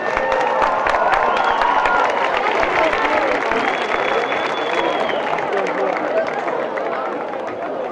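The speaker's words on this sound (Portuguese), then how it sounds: "molim vas jedan ogroman aplauz za sve nas koji smo ovdje" A crowd at a graduates' dance event applauds, a dense, loud, sustained clapping with some cheering and chatter mixed in, holding steady before easing slightly toward the end.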